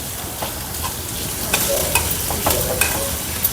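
Onion and chopped coriander tipped into a frying hara bhara kabab mixture of vegetables and roasted besan, with a steady sizzle, spoon stirring and scraping, and a few sharper clinks near the end.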